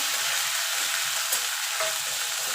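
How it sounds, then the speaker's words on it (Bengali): Green chilli and ginger paste frying in hot oil on a lowered gas flame, a continuous close sizzle with faint stirring scrapes, no voices. "আমি কাঁচা লঙ্কা আর আদা বেটে রেখেছিলাম সেটা দিয়ে দেবো।"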